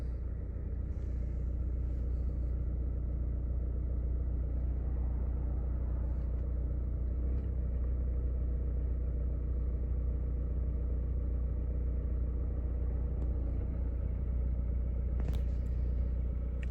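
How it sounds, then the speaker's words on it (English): Vauxhall Insignia engine running steadily during fuel injector calibration, a low, even idle rumble that holds throughout with subtle shifts in revs, heard up close and without talk. "the revs are just altering there while it just runs through the procedure."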